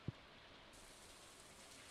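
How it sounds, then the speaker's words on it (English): Rain falling in the farming game Stardew Valley: a soft, steady hiss of rainfall throughout, quiet and even, with one brief dull thump near the start. "We've got a rainy day"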